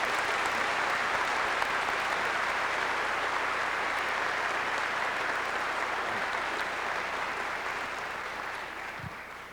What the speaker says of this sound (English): let's give them all another great round of applause